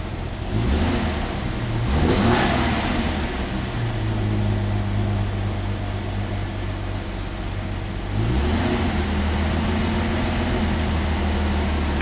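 Fiat 130 engine idling after start-up, rising into a couple of revs, then settling into a steady low rumble, close and continuous.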